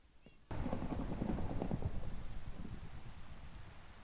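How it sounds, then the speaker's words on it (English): Thunder rolls through a Minecraft world and comes in abruptly as a loud, sustained rumble with rain, filling the scene for several seconds before slowly easing. "And it's thundering."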